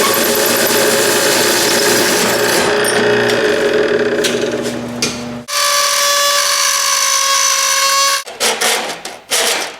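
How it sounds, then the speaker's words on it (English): Die grinder shaping gauge openings for a custom digital dash in a second-generation Ram truck, a loud continuous high whine that stops, restarts, then breaks into short bursts near the end. "So I'm gonna sit here with my die grinder and get all these gauges to fit perfectly"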